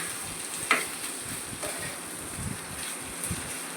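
Cooked banana stem being stirred into tender coconut flesh with oil, a soft scraping and light sizzle with a few sharper knocks of the spoon against the pan, steady and close, no talking.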